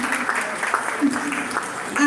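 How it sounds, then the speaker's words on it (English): An audience claps at a teachers summit, a brief, moderate patter of applause mixed with someone speaking over it. "Clap for yourselves, please."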